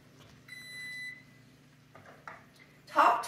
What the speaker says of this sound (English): That's your timer.